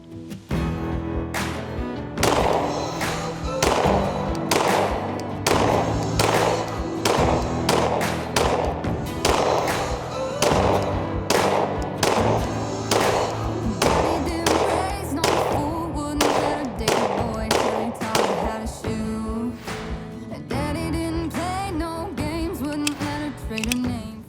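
Shadow Systems MR920 Elite pistol fired at an outdoor range from about 12 yards: a long string of loud, sharp gunshots in steady, fairly quick succession, nearly continuous for over twenty seconds.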